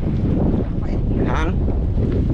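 Strong wind buffets the microphone in a steady, loud rumble throughout, with a brief voice-like sound in the middle.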